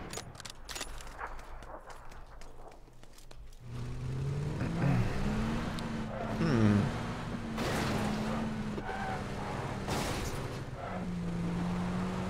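A vehicle in PUBG on Miramar runs with a steady engine drone that rises and shifts as it drives, after a quieter opening with scattered clicks and other game sounds.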